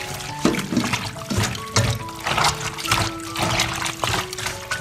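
Pig intestines being washed by hand with white vinegar and flour, giving wet squelching, sloshing and trickling water sounds in uneven bursts, close up, with no talking.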